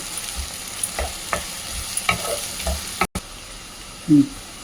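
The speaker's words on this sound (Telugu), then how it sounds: "ఇది బాగా గోల్డెన్ బ్రౌన్ వచ్చేదాకా వేయించుకోవాలి" Curry leaves frying in hot oil for a mutton fry, with a soft sizzle under a regular series of spoon stir strokes, a brief dropout, and a sharper clink near the end.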